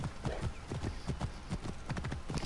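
Rapid, rhythmic hoofbeats of a galloping horse in a video game, close and continuous, with a faint whinny in the mix.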